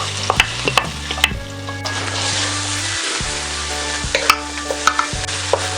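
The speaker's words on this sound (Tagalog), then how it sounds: "Isusunod natin ang ating bawang. Tapos itong ating luya." Garlic and ginger sizzle in a hot pan with an oily frying hiss, punctuated by sharp utensil clicks and scrapes as they're stirred, with a steady low hum underneath.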